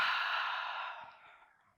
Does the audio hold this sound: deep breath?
yes